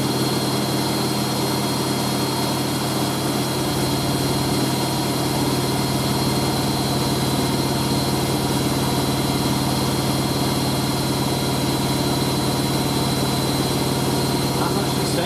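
A Hoover A3060 washing machine spinning a load of towels at 1100 RPM, a steady loud whirring roar with a constant hum that continues without a break throughout, close by and with no clear talking.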